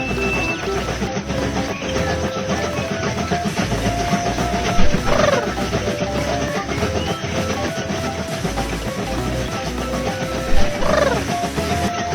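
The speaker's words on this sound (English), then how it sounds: "Hold the button to speed up the train." Cartoon train in a children's video game, rhythmic clickety-clack of wheels over rail joints with hissing and two whistle-like tonal sweeps, loud and continuous over light background music, no voices.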